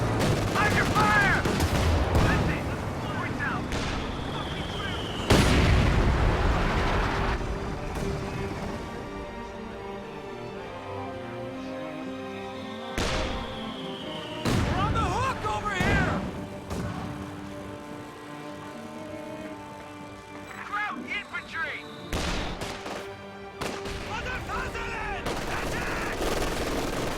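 Gunfire and artillery from a strategy video game battle crackle in sharp bursts and booming volleys over a busy, sustained din of game effects and tones.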